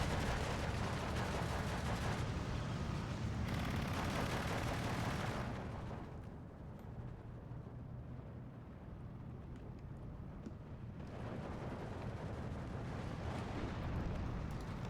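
Sustained gunfire and explosions from a Steel Division II battle, including machine gun bursts, form a dense, loud wall of combat noise that eases in the middle before swelling again, with no talk over it.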